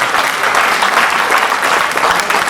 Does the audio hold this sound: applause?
yes